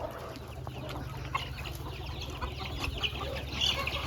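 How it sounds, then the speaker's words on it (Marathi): Chickens and small chicks clucking and cheeping in a poultry coop, a steady busy chorus of short calls, moderately close, with a slight swell near the end. "हे बघा कसा कोंबड्याचा खुरावडा बनवलेला आहे इथं. बघा किती कोंबड्या आहेत."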